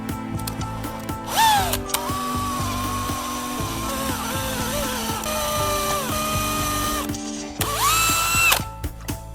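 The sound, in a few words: power drill drilling holes for a metal bracket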